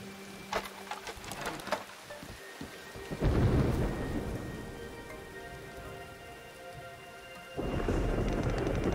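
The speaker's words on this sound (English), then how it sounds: "A storm rages." Thunderstorm in the video game Diluvian Winds, with steady rain and rolling thunder rumbling in bursts, swelling loudly near the middle and again at the end.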